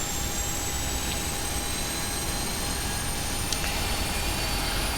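Airliner jet engine number two starting up in the Prepar3D flight simulator, a steady, loud broadband roar with a thin high whine held evenly throughout, no voices.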